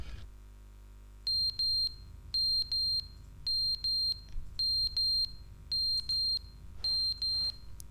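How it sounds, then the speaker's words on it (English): A smoke alarm in the video game The Stanley Parable gives shrill, high-pitched beeps in regular pairs, repeating steadily over a quiet, low background hum. "What's the smoke alarm?"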